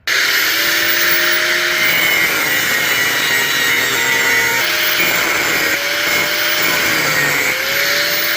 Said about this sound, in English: we're going to go ahead and cut out those arches from the tube that we traced out